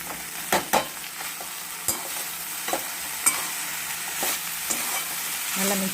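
Food is stirred and mixed in an oiled pan with pink rock salt added, making a close sizzle broken by sharp scraping clicks and spatula taps, irregular and alone without talk.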